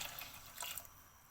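Two cups of ice water poured into Kashmiri pink tea as it is beaten, a brief, faint trickle and splash of liquid heard close up.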